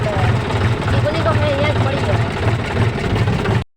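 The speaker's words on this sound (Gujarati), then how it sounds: "આપણે ટ્રેક્ટર લઈને નીકળી ગયા છે" A tractor engine idles and runs with a steady low, pulsing throb on a rural outing, close and continuous for nearly four seconds before cutting off.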